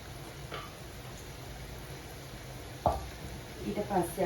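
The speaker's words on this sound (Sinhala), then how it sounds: "දැන් අපි පෝක් අපි අර මැරිනේට් කරගත්තු පෝක් ටික මේකට එකතු කරගන්න ඕන." Marinated pork added to a hot pan, sizzling in a steady low frying hiss with a sharp clatter partway through and brief stirring scrapes near the end, close by and without speech.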